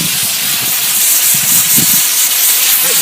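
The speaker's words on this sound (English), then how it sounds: "The X5000, I'm just going to use steam and a little bit of water" A VX 5000 vapor system steam cleaner sprays a mix of steam and a little water, a steady close hiss that runs unbroken for the whole stretch, with faint low knocks underneath.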